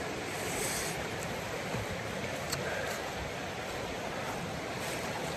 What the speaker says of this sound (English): Nice sound of the river next to me all the time.